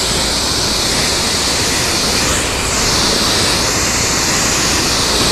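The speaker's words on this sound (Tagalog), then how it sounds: "Pag i-spray kasi hindi dapat malakas, hindi rin dapat mahina." A loud, steady hiss of a pesticide sprayer spraying a tree, constant and broadband like rushing water, running without pause.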